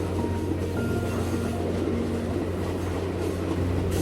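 A train runs through the 6,379 m Samalada Tunnel, a steady low rumble with a constant hum and faint rail clatter, continuous and close throughout.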